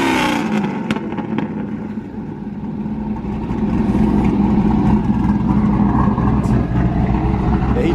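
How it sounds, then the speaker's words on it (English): A Terminator Cobra with a V8 engine runs nearby with a deep, steady rumble that swells slightly louder partway through, continuous and close. "Got a little sound of a V8."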